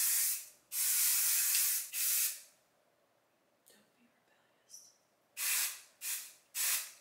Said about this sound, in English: we're gonna go ahead and spray it down